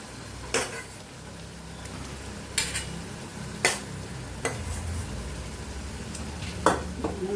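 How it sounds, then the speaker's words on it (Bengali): Spices being stirred with butter in a pan for a potato, pointed gourd and paneer curry, with several sharp scrapes and clinks of a spoon against metal over a low background sizzle. "বাটারটা দিয়ে মশলার সাথে ভালো করে একটু"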